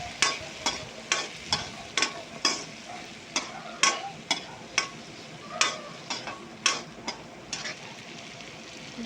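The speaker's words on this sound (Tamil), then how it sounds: "இப்போ கருவேப்பிலை போட்டுக்கலாம் வெங்காயம் போட்டுக்கலாம் இப்படி நல்லா வதக்கிக்கலாம்" Curry leaves and onions sauté in a pan for a spicy okra curry: a soft continuous sizzle under sharp, regular scrapes of a spatula stirring, close and moderately loud.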